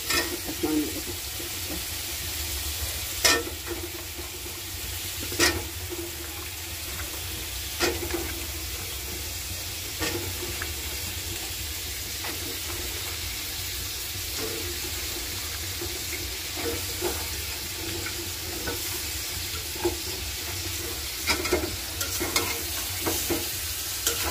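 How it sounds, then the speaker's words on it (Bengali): Spice paste for a greens curry sautés in a pan over a gas flame, a constant dense sizzle with occasional scraping stirs, close and fairly loud, with faint background noise and no talk. "এই যে শাকের তরকারির জন্য মশলা কষানো এই দেখেন গ্যাস আমার মশলা কষানো হয়ে গেছে"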